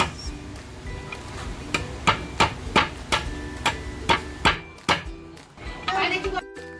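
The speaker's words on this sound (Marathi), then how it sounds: "तर आता आपण मोठे आंगडे असे ठेचून घेऊया" Ingredients for a village-style crab masala are pounded and crushed by hand: a steady run of about eight sharp, close thuds, evenly spaced, over faint background noise, with a voice speaking briefly near the end.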